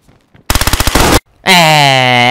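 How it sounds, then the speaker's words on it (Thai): Rapid automatic gunfire from the video game DayZ, a loud close burst of about a dozen quick shots, then a brief gap before a sustained harsh tonal blast. "เป็นการยิงมั่วเลย"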